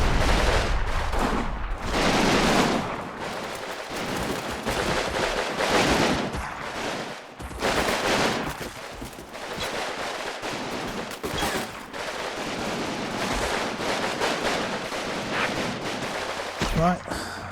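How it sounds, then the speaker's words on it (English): Gunfire in the Stalingrad war game Combat Mission, rifles and machine guns rattling in dense overlapping bursts with heavier booming blasts, loud and continuous throughout, with someone talking over the battle. "Lots of fire coming in from the troops in the apartment block that the German machine gun was shooting at earlier."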